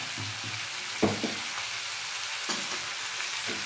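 Chopped leafy greens hiss and sizzle in hot oil in a pan, with a few distinct spatula scrapes and clatters over the steady close frying noise.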